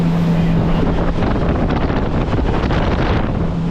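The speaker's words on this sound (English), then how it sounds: "Back on the boat," Steady roaring rush of a boat speeding across water near Abel Tasman, New Zealand, with heavy wind buffeting the microphone throughout and a low engine hum underneath.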